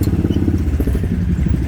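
A 1971 motorcycle with a four-speed gearbox pulls off in gear, its engine giving a loud, close, throbbing rumble that stays steady for under two seconds.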